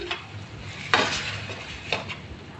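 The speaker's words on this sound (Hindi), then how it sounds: "ये डाल के इसको मैं अच्छे से पहले मिक्स करूँगी" Tomato puree is stirred into frying minced keema in a pan, with a soft sizzle underneath and a couple of brisk scraping strokes of a spoon against the metal, close by.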